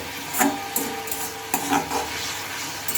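Tomato spice masala being stirred in a pan, a scraping spoon moving through the thick mixture in repeated strokes with a soft sizzle underneath, close and steady.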